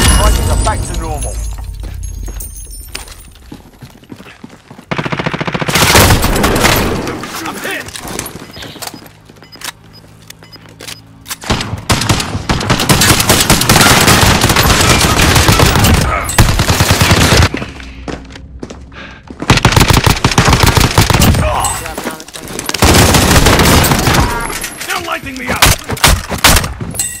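Apex Legends gunfire comes as loud, rapid bursts of automatic shots in several dense clusters, with sharp cracks and clattering between quieter gaps.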